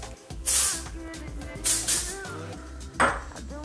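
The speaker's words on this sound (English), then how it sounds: "I'm using the Orbe texturizing spray, and I'm gonna spray it through my hair on both sides, all throughout" Orbe texturizing spray hisses from a can through hair in three short bursts, close and sharp, with faint pings and rustling between.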